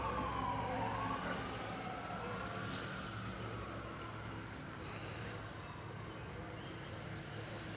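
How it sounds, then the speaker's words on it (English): A fire truck siren passes at a distance near a fishing bank, faint and wavering over steady outdoor background noise. "There goes the fire truck."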